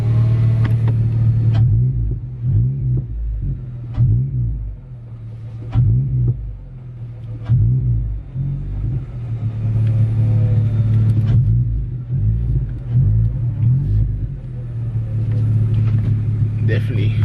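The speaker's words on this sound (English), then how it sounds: "See if you guys can hear the intake." A car engine's intake drones and swells while driving on the road, a rumbling roar that rises and falls with throttle, close and loud, with someone talking over it at times.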